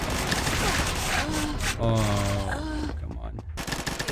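Bursts of automatic gunfire from hip firing in the shooter game Combat Master, loud rattling volleys over in-game noise, with a man briefly exclaiming near the end.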